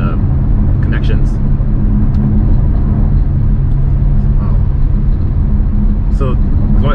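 A BMW X5 with a twin-turbo V8, towing a load, climbs a slight hill. Its engine and road noise make a loud, constant low rumble inside the cabin, with a few faint higher squeaks and rattles over the top.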